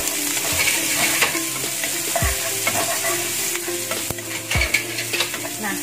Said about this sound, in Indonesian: Nah, seperti ini kita aduk rata sampai harum ya.